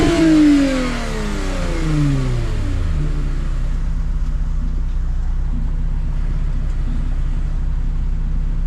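A car engine revs hard and then settles into a steady running drone as the vehicle drives, loud and close, with rising and falling engine pitch at the start.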